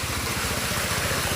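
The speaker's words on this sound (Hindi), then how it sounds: "तो अभी ये बाइक कैसे जा रहा है," A motorbike chugs through flood water during heavy rain, its engine giving a steady, close, pulsing putter with a broad wash of noise over it.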